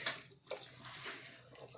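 Water poured onto dried fish to soak it, a faint splashing, trickling pour with a couple of brief splashes, heard alone without talk.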